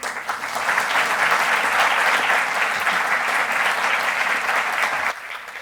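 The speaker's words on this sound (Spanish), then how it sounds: "os voy a pedir un aplauso para él" Sustained audience applause at a technical conference in Spain, dense and steady clapping from a large crowd filling the room for about five seconds, then cutting off abruptly.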